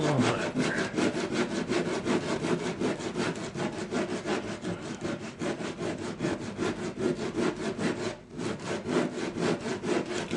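Cork underlay on a model railroad being sanded by hand in steady, rhythmic back-and-forth strokes, close and continuous with a brief break near the end.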